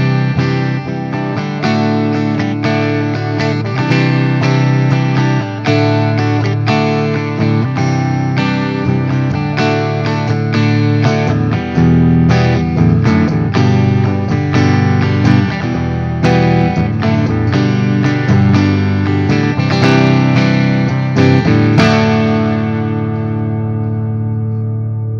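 An electric guitar through a Fender Tone Master Pro with a boost pedal, tape echo and small hall reverb plays sustained chords and melodic lines with a boosted tone, echoing repeats and a roomy reverb tail, ringing out alone at the end.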